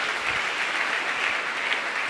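Church congregation applauding the Lord during a worship service, a dense, steady wash of clapping from many hands throughout, with no pause.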